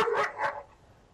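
A dog barking played as a deterrent sound by a military acoustic device, two sharp, close barks in quick succession followed by quiet.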